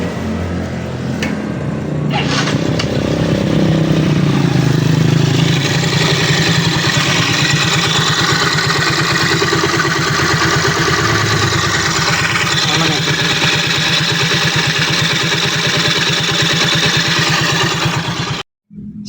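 A Mio J motorcycle engine fires up and settles into a loud, close, steady idle with a rapid clattering putter, cutting off abruptly at the end.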